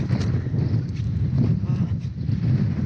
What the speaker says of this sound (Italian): C'è un vento pazzesco